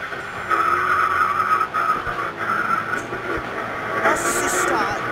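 Hypercars racing in Grid Autosport, engines whining at high pitch with tyres squealing and skidding, while players chatter over the game sound.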